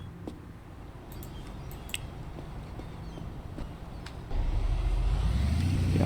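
Car engine rumble while driving in the Big Ambitions game, a steady low drone that grows louder and heavier toward the end, with faint clicks above.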